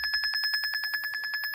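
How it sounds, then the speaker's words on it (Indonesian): A Locus GIS mapping app on an Android phone sounds a rapid, steady run of identical electronic beeps, about a dozen short pulses in quick succession, clear and close with no talk. "Ada beep."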